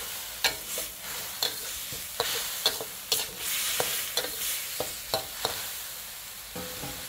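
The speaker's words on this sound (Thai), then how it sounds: "ผัดให้ส่วนผสมละลายให้เข้ากันให้หมดเลยครับ" Pork stir-fried in a pan with seasoning sauce, oyster sauce and sugar: a steady sizzle broken by repeated sharp scrapes and clacks of a utensil against the pan, fairly loud and close, with no talking.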